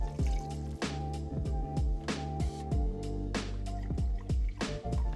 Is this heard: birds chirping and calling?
no